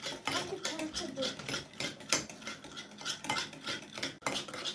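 A spoon stirring sugar and glucose syrup in a pot, with quick repeated metallic scrapes and clinks against the pot, close and fairly loud, with faint talk in the background.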